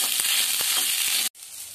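Okra sizzles steadily as it fries in a pan, a dense, loud crackle with faint stirring taps, cutting off abruptly near the end and leaving a quieter hiss.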